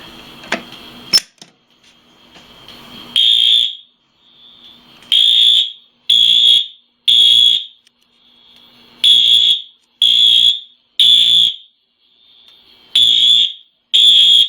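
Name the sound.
fire alarm sounding after pull station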